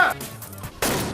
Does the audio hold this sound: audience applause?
no